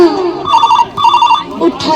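Telephone bell ringing in repeated short bursts, loud and close, in a staged stage-drama scene with voices heard around it.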